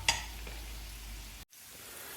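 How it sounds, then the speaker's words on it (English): Potatoes and peppers sautéing together in a pan with garlic, a quiet, steady sizzle with a brief sharp clatter at the start and a momentary cut partway through, no talking. "I'm gonna go ahead and put my peppers in, and we'll just saute them all together here."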